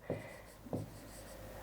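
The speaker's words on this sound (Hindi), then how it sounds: "यहीं पे लिख देते हैं" Two short scratches of a pen writing by hand on paper, quiet and close, with a soft gap between strokes.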